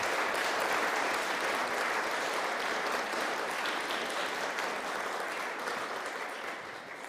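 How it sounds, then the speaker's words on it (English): A large audience gives a sustained round of applause at an evening event honouring women solicitors, the dense clapping steady and loud before easing slightly toward the end. "So a big round of applause for Lubna, please."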